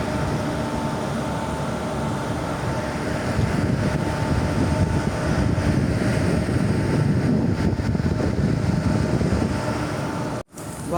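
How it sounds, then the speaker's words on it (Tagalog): Strong wind buffeting the microphone outdoors at a condo in Mandaluyong City, a continuous loud rushing roar that holds steady for the whole stretch and drops out briefly near the end. "Hangin pagyod oh."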